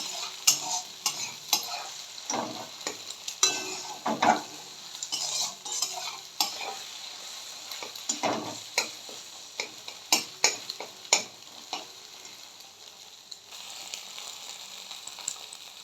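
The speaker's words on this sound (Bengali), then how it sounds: "ডিমগুলোকে আমি এবার ভেজে নেব।" Eggs frying and scrambled in a pan for spicy egg Maggi, with steady sizzling and repeated sharp scrapes and taps of a utensil against the pan at an uneven rhythm, close and fairly loud, no talking.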